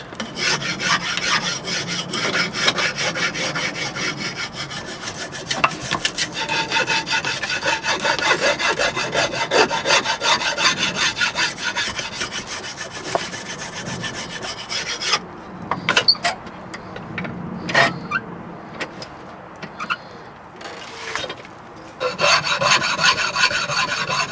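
Smoother foil rubs over the wooden corners of a Bhutanese-style bow, a close, steady raspy scraping that runs continuously, briefly breaking into separate strokes before resuming.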